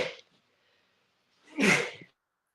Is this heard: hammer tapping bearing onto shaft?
no